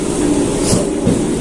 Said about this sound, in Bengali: তো ট্রেন এসে গেছে।